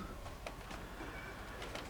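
Pigeons coo softly in short, faint, repeated calls over a steady low background hum, with no one speaking.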